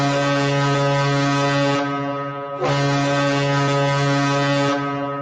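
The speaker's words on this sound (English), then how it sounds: "Oops, you get the big foghorn." A deep, loud foghorn sound effect blares in two long sustained blasts with a brief dip between them, rich and droning, with no voices over it.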